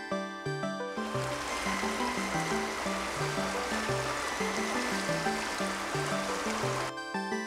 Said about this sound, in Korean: 눈잎을 덮어쓴 계곡에 봄을 재촉하는 물소리 낭낭하고